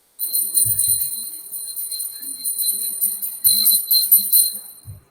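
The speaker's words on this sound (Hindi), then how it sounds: "किसकी घंटी बज रही है?" A bell or phone ringing in a repeated electronic pattern, loud and close, with a steady high tone running through the whole stretch and a few low thumps between rings.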